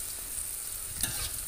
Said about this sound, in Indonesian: ini udah aku goseng-goseng bawang putih, bawang merah